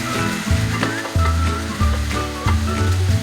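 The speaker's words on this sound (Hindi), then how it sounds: "1 मिनट के लिए इसको फ्राई कर लूंगी।" Chicken 65 sizzles steadily in a hot pan, a loud continuous frying hiss with bursts of crackle rising and falling close by, no voices.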